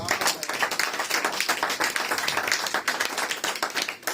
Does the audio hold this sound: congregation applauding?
yes